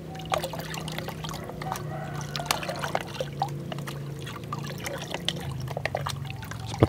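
Organic Trichoderma fungicide powder, about 50 grams, is stirred into roughly 7 liters of water, making a continuous soft sloshing and swirling with light splashes and small clinks. No one speaks.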